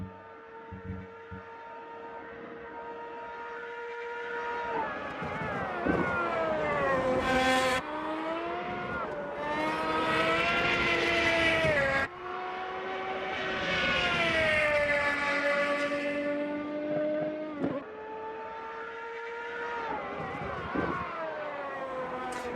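A race car in the Automobilista 2 video game heard from an outside view, its engine droning loudly and continuously, with revs climbing and dropping repeatedly through gear changes and turns, no talk.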